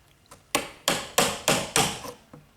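Steady mallet blows on a chisel chopping a mortice in a wooden saw stool: five loud, close, evenly spaced strikes, with lighter taps before and after.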